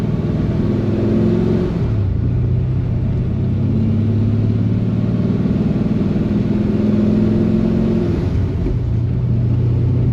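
A procharged Pontiac GTO running on E85 drives along, its engine a loud, close rumble that climbs and shifts through revs with audible gear changes, and no talking.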